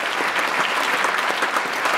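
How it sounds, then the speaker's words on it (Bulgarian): Concert audience clapping at an Easter children's dance ensemble performance in Vratsa, a loud, dense and continuous round of applause from a full hall, with no voices on top. "аплодисменти за вашата подкрепа."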